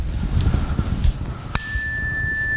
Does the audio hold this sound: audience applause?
no